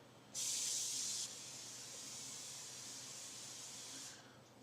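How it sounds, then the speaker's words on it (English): A short, forceful cooking spray aerosol hisses onto a pan, then settles into a softer steady hiss for a few seconds before cutting off in a quiet room. "just spray some cooking spray on it."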